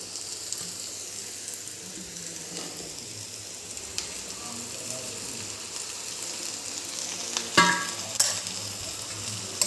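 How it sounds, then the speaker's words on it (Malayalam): Chopped long beans (achinga), washed and cut for a Kerala sadya-style dish, sizzle steadily in a hot pan, with a spoon stirring and scraping throughout and a louder clatter of stirring near the end. Nobody speaks. "അച്ചിങ്ങ ഇടാം."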